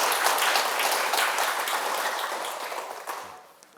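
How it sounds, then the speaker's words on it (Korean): Audience applause at a Buddhist Dharma talk, a dense crowd of clapping hands that is steady at first and then slowly thins and fades toward the end. "여러분 큰 박수 부탁드립니다."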